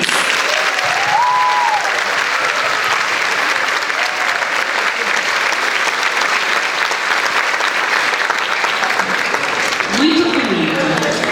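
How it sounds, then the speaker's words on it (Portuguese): An audience at the opening of student presentations claps loudly and continuously, a thick sustained wall of applause with a few cheers and voices rising within it. "eu queria pedir uma salva de palmas para vocês"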